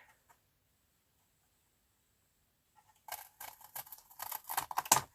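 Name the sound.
cutting paper for a half spine journal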